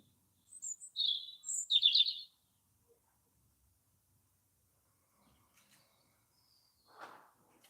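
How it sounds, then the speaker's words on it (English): Garden birds give a few quick, bright chirps and short trills close by, then fall silent. A single faint, soft call follows near the end, with quiet surroundings in between. "listening to the birds"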